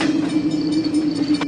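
A train arriving in the horror video game Burger & Fright, a brief steady low rumble with a faint high squeal above it and a sharp click near the end.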